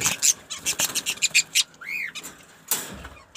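Budgie chicks in a breeding cage squawk and chirp in a rapid series of harsh, close calls, with a brief rising whistle-like note partway through.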